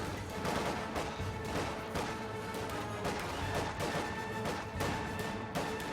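Heavy machine gun fire in Company of Heroes, dense overlapping bursts mixed with crashing impacts and other battle noise, steady and fairly distant-sounding, with no talk.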